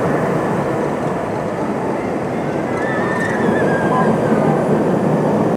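A loud, continuous roar of the Galactica roller coaster at Alton Towers, rumbling train noise with a faint squeal and muffled voices mixed in throughout.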